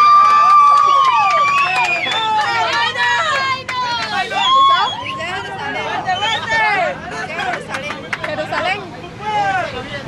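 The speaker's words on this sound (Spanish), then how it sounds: "¡Aplausos!" A crowd at the 2008 Olympic torch arrival in Pérez Zeledón, Costa Rica, keeps up a dense, loud roar of cheering, whistles and excited shouting that swells and dips throughout, with voices calling out over it.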